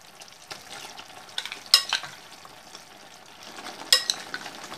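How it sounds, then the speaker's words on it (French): Blackberries dropped into hot boiling sugar syrup and stirred, soft sizzling and bubbling with a couple of sharp spoon or pot clinks, quiet and close. "Et maintenant, je vais venir ajouter mes fruits"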